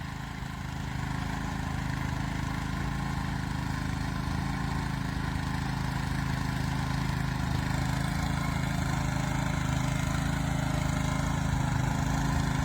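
A light petrol power tiller engine runs steadily nearby, a constant buzzing drone with a droning low hum that holds at even loudness for the whole stretch, with no speech over it.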